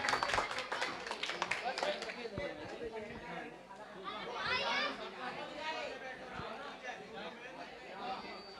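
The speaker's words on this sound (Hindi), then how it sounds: "मेरा समिति के सभी सदस्यों से बार बार निवेदन है कि जोरदार तालियां बजाते रहें" Applause from the crowd at a live bhajan evening in Sankheda village near Itarsi, a burst of rapid clapping that fades and then picks up again, heard under the steady chatter of many voices.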